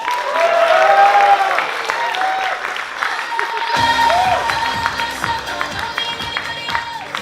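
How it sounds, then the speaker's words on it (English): A live comedy crowd at UPenn applauds and cheers as comedian Charlie Sosnick is welcomed to the stage, dense clapping that carries on steadily and then thins slightly while whoops rise over it. "Please put your hands together for Charlie Sosnick."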